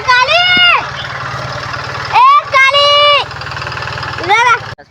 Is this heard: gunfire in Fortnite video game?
no